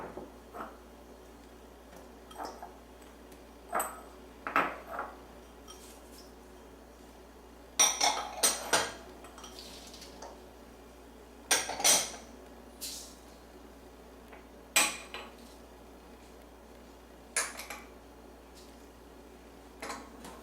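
Falafel spices tipped from small dishes into a bowl in a home kitchen, scattered light clinks and taps of dishes and utensils spaced out over a quiet background, no talking.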